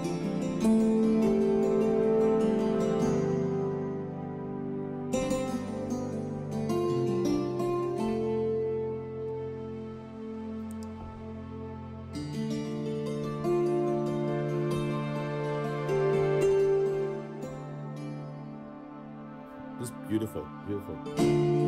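A software instrument layering three Spitfire Labs libraries plays sustained, evolving chords with rich harmonic tones, swelling and shifting through several phrases at steady loudness without any talking.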